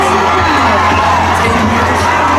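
A dense, loud crowd roars and cheers steadily at a high school football game between Harrisburg and Sioux Falls O'Gorman, with shouting voices throughout.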